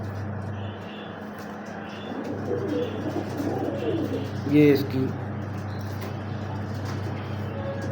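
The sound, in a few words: breeder pigeons cooing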